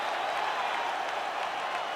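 A UFC arena crowd at a welterweight fight applauds and cheers in a dense, steady wash of clapping that fills the whole moment without a break.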